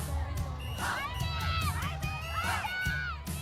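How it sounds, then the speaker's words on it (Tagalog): Fans at a celebrity event shout and cheer together in a loud, steady crowd roar, with excited high voices rising in waves. "grabe naman yung sigaw natin mga mami."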